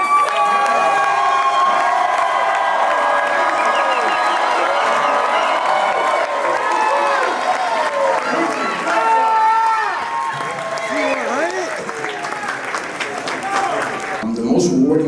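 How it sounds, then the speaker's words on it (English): Crowd at a live testimonial event erupting in loud cheering, whooping and applause, with many overlapping shouting voices sustained for about fourteen seconds before it cuts off abruptly. "Let's give a big round of applause to"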